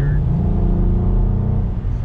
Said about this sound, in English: this V6 sounds so much deeper